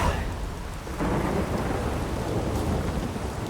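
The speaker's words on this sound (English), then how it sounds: "Rain in fucking buckets." Heavy rain pours steadily in The Witcher 3 video game, a loud dense hiss with low thunder rumbling underneath throughout, with no talking.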